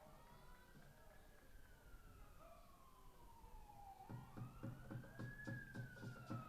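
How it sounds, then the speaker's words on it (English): At a college baseball game, a siren wails in the distance, its pitch sweeping slowly up and down, while someone talks over it in the foreground. "Sirens blaring in the background"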